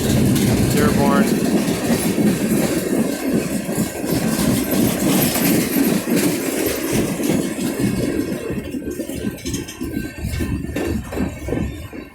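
A long CSX freight train with ballast hoppers rolls past near Plymouth, Michigan, out of Rougemere Yard, Dearborn, one car carrying a bad flat wheel. Loud, continuous rumble with rail clatter fills the whole clip, easing slightly toward the end.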